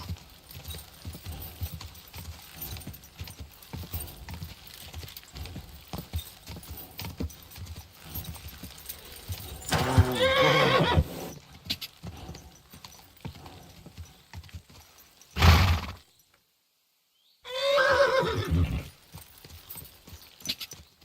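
Horse hooves clip-clop steadily on a path in the medieval video game Kingdom Come: Deliverance 2, with a horse whinnying loudly a couple of times, a brief silent gap, and a faint rattle of tack.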